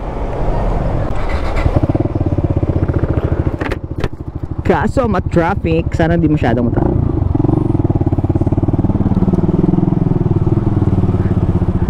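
Suzuki Gixxer 155fi motorcycle riding through traffic, its engine rising and falling with rapid rev blips on rev-matched downshifts, close and loud, with someone talking over the ride.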